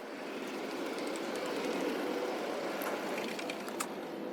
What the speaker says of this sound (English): I'm going to change to an Overground train.